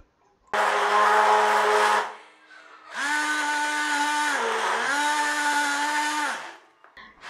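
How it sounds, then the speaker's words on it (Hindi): A mixer grinder whirs loudly in two bursts while grinding a cooked potato mixture, a short run, a brief pause, then a longer grind whose pitch dips and recovers as the load shifts. "ठंडा होने के बाद आप इसको मिक्सिंग जार में डाल के इसको पीस लो"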